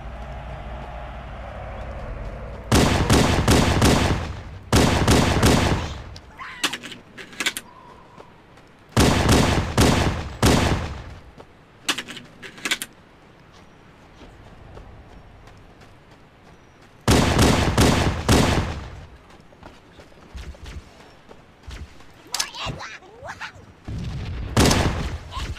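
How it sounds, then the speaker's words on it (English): Bursts of rapid automatic gunfire in Halo: Combat Evolved, several long loud volleys and shorter clusters of shots spread across the stretch, with quieter gaps and occasional talk between them. "Oh my god, they're shooting at me, man."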